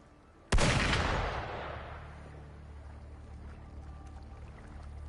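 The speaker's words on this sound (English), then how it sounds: "Gunfire! We've got intruders." A single sharp gunshot rings out in the video game Wuthering Waves, starting abruptly and decaying into a long fading echo over a quiet background.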